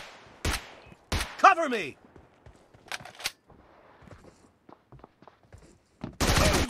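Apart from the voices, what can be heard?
gunfire in the video game PUBG/BGMI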